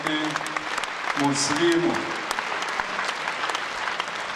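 Concert audience applauding at a 75th anniversary concert honoring a singer, a dense wash of clapping running under a presenter's speech and brief music for about four seconds.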